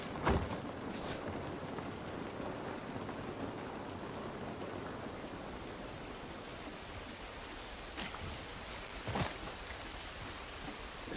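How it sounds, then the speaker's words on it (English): Steady rain pours down in a game world from The Last of Us, a continuous wash of hiss and patter with a few sharper drop impacts standing out, fairly close and even throughout. "This rain ain't gonna do us any good."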